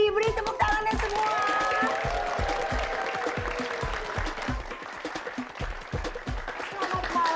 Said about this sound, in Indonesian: Beri tepuk tangannya semua.